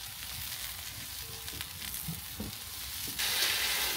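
Steaks seared in a hot pan give a steady, broad sizzle and crackle throughout, with a few brief clicks and a slightly louder hiss near the end, no voices.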